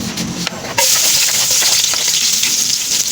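Loud, steady sizzle of food dropped into hot cooking oil in a pan, a bright continuous crackling hiss that jumps up sharply as the food goes in, with some stirring clatter and no talk.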